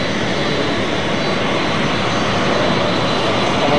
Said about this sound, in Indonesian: Satu pesawat dari Arab Saudi sudah tiba di Bandara Halim Perdana Kusuma.